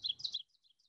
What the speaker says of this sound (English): AKA the teacher bird. Yes, because of its song, and we'll play you the song here.